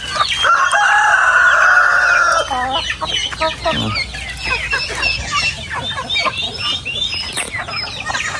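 Loud clucking and squawking from free-range hens and turkeys close by, a burst of calls at first, then scattered clucks continuing through the rest.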